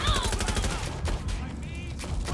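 Gunfire from the video game Watch Dogs: Legion, several loud sharp shots in quick succession over dense game noise, with a voice speaking briefly underneath.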